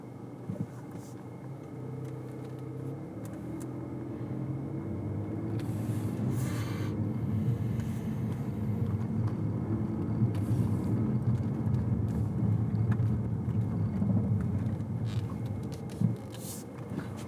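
A car driving down Evans Road, heard from inside as a steady low engine and road rumble that swells slightly midway, with a few faint clicks and no talking.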